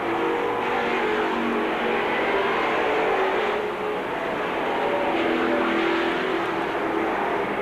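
Race cars circling Seekonk Speedway at a 1984 weekly event, a steady, loud engine drone that swells and fades slightly as the field passes, heard without talk.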